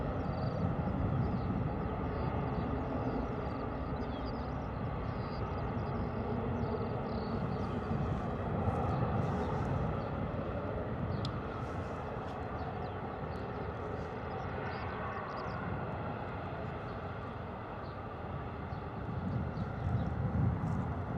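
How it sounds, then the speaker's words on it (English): A KLM airliner at Bristol Airport rolls for takeoff at full power, a sustained, rumbling engine roar that stays broad and steady for the whole stretch, heard from a distance without talk. "Here we go, KLM, power set, rolling out."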